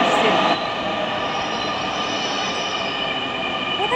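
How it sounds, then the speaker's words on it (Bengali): A metro rail train pulls into a station with a loud, steady rumble and high wheel squeal, close by and sustained, with faint station noise around it. "আমরা উপরে উঠছি আর 5 মিনিটসের মধ্যেই মেট্রো রেল চলে আসছে"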